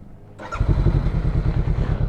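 A Honda CBR500R motorcycle with an aftermarket exhaust starts up, a brief starter whir followed by the engine catching and settling into a loud, close, throbbing idle.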